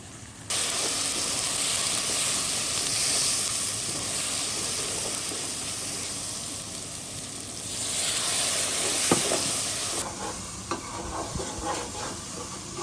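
Black pepper, turmeric and garam masala roast in hot oil in a pan in a village kitchen, hissing with a steady loud sizzle while a spoon scrapes and stirs at intervals, close up and with no talking.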